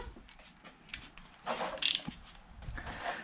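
A torque wrench used as a breaker bar on the front fork of a Yamaha WR400F gives a few quiet, close ratcheting clicks and mechanical creaks. A brief, louder burst of metallic clicking comes near the middle.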